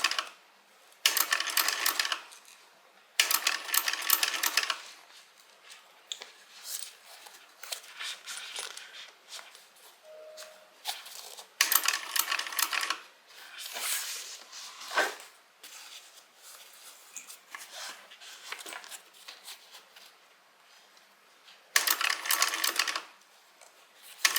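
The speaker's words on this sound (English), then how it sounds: "I'm going ahead and stitching all the way around" A sewing machine stitching around a handbag seam, running in several fast whirring bursts of stitching separated by short pauses, close and clear with no talk.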